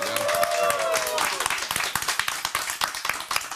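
Studio audience clapping to welcome a guest on a comedy show, rising under a host's voice at first, then crisp individual claps thinning out toward the end.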